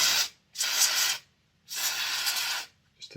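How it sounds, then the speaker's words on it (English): Contact cleaner sprays onto HO scale model train gears in two longer bursts and a brief final puff, close and hissing, separated by short silences. "So we shall give them a good scoosh with the contact cleaner,"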